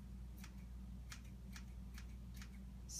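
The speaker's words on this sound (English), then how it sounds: "I love to cut with my kitchen scissors and just chop it in." Kitchen scissors snip a big sprig of fresh basil into a pot of Italian beans. About six crisp, evenly spaced snips sound close up over a low, steady kitchen hum.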